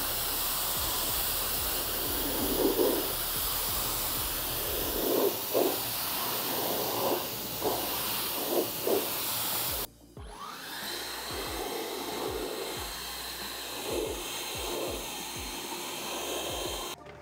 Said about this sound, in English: So let's pressure wash this off